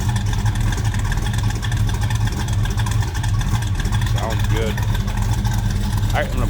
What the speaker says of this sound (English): so you can hear this run. Listen to this. Ooh. Mopar power for you